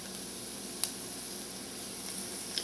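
Vegan margarine melts in a pan with tender onions and garlic for a white sauce, making a faint, steady sizzle and hiss with a couple of tiny clicks and no talking.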